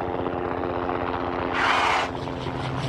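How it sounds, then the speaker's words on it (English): Helicopter rotors spinning with a steady low, rhythmic chop that continues throughout, joined briefly by a louder rush of airy noise partway through; no one speaks. "Helicopters have wings that spin."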